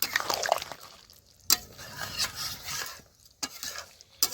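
A spoon stirs ground roasted garam masala, cumin and chilli into thick goat head curry in a pot, making intermittent scraping and wet clacking strokes with soft bubbling between, spaced by short quiet gaps.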